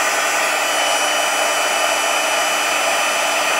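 A heat embossing gun blows steadily on a stamped card, a loud, unbroken whooshing hum of fan and heater with no pauses.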